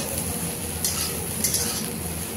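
Squeezed soybean chunks fry in hot oil with a dense, even sizzle and small crackles, joined by a few light scrapes of stirring.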